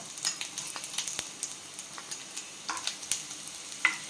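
Soft crackling sizzle of finely chopped ginger frying in hot oil, with scattered pops and light clicks, fairly quiet and steady with no voices.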